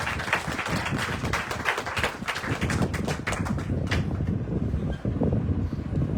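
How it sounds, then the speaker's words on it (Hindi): A congregation claps on request during a Hindi-language church sermon, a dense burst of hand claps that carries on for several seconds, then thins out. "ताली बजा दो बेटी"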